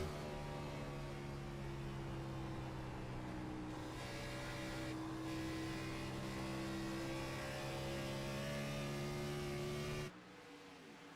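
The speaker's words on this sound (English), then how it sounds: "Jeffrey Merck, look at this and listen on the gas right here, trying to run down Jason D. Maines up in fr" A stock car in the sim racing game's cup series at Dover holds the throttle open, its engine droning loud and steady with sustained whining harmonics. The tone shifts slightly midway and drops off abruptly near the end.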